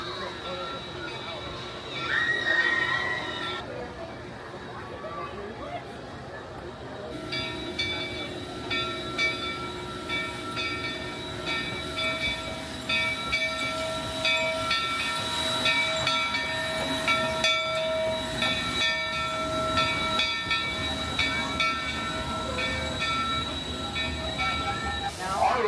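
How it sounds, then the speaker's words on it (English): Century-old Calico Railway train at Knott's Berry Farm rolling along, a steady rumble and clatter of wheels and carriages with a sustained tonal hum and hiss, while people talk throughout. "we are capping off our day with the Calico Railway."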